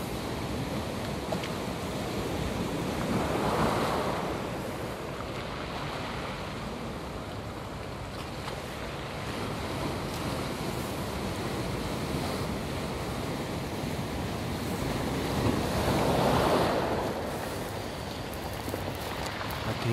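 Ocean surf rolls in under steady wind, with broad washing waves swelling twice at a scenic coastal spot, heard from a moderate distance with no voices.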